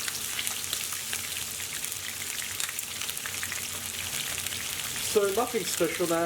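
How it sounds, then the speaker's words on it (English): Chicken pieces fry in a pan with a dense, steady sizzle and crackle close up, and a voice talks briefly over it near the end. "all we're going to do is fry it for about 4 to 5 minutes on each side"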